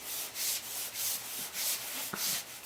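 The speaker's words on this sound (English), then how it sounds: "So what I do is put some on the inside, kind of rub it around with my hand." A hand rubs talcum powder around the inside of a motorcycle tire, a soft rhythmic swishing repeated about five times at a steady pace, close and fairly quiet.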